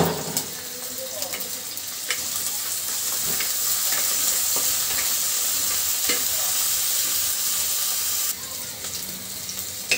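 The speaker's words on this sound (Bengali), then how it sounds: "তো পেঁয়াজ মরিচ ভাজা কিন্তু হয়ে গেছে।" Chopped onion and green chilli fry in hot oil in a pan, giving a steady, close, hissing sizzle with occasional sharp clicks of stirring and a brief drop in intensity near the end; no one speaks.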